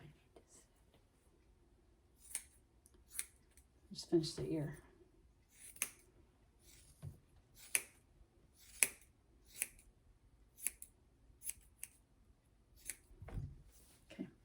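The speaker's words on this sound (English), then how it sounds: "I'm going to just trim with the curve of the ear with the curved scissors" Quiet, crisp snips of curved scissors trimming a Havanese's ear fur repeat every second or so, close up, with brief soft speech partway through and a low background hum.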